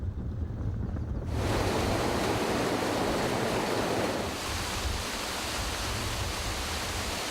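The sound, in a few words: water rushing at the Ouidja river dam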